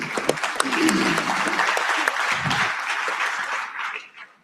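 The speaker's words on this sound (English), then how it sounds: "a round of applause for our panelists" An audience claps for the panelists at a discussion event, with dense applause filling the whole stretch and fading out at the end.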